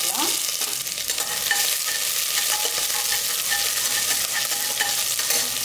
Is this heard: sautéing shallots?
yes